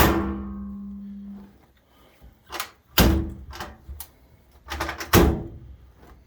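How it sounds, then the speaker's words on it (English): Someone shuts the door of a Maytag commercial washer: a fading hum gives way to a few scattered clunks, then a sharp loud bang and, a couple of seconds later, another solid thud with rattling. "We're going to shut the door."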